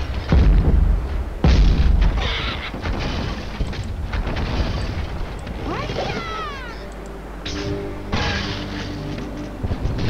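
Two heavy booms go off near the start in Angry Birds Star Wars 2, followed by a busy stretch of game sound effects, whooshing tones and softer rumbles.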